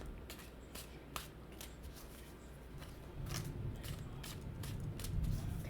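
Tarot cards being shuffled close by, a steady papery riffling with repeated sharp snapping flicks over a quiet background.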